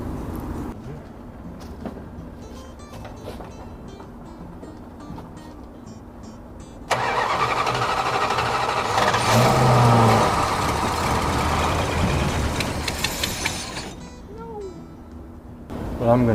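A 1965 Chrysler engine cranks and catches into a loud, rough running drone that holds for several seconds before settling back, with quiet background sounds before and after.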